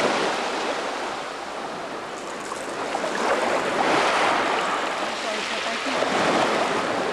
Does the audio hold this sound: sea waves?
yes